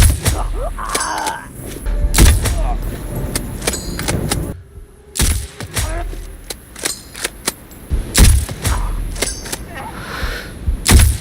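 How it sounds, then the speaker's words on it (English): Sniper rifle shots ring out in Sniper Ghost Warrior Contracts 2, sharp loud cracks spaced several seconds apart with booming tails, heard beneath a narrator's ongoing commentary. "The sniper rifles in particular sound powerful, and hearing a shot connect with an enemy makes every successful kill feel even more satisfying"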